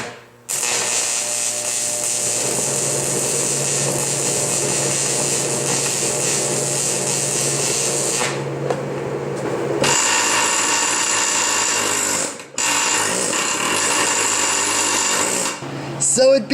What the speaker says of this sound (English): let's demonstrate and make our first weld.